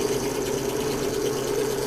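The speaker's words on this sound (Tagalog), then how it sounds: "Ito yung ginawa namin blower para maghiwalay yung balat doon sa nibs." A homemade blower for separating cacao husks from the pounded nibs hums steadily at close range, a continuous motor-driven drone with a faint rapid mechanical rattle and no pauses.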